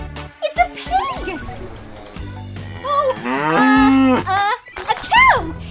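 Several loud, drawn-out cow moos sound one after another, close and clear, with a few short knocks between them.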